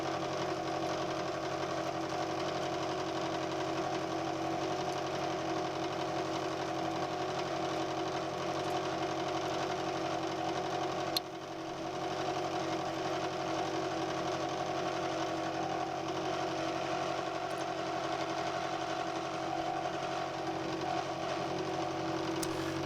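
A new Acra milling machine with a 3 horsepower motor drives a 2.5-inch cutter through a heavy cut, giving a steady, loud mechanical drone with a strong hum that slightly bogs down. One brief dip comes midway, and no one talks.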